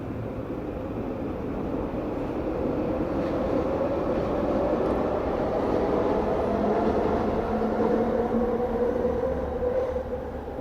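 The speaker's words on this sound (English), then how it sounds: "11 minutes is the sound of the train going by" A CN freight train rolls past, giving a steady rumbling roar with a slowly shifting drone. It stays fairly loud and even throughout, heard alone with no talking.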